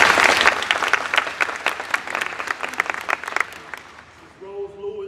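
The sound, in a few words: applause at a community meeting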